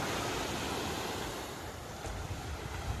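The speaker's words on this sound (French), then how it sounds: "on a fait un petit arrêt sur une plage magnifique" Surf washes onto a beach at Skida, Algeria, a soft, steady rush of waves heard from a distance, mixed with light wind noise and no talking.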